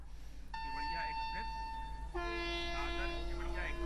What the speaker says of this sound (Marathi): 8 गाड्यांना एकाच वेळेला हिरवा झेंडा दाखवण्यात आला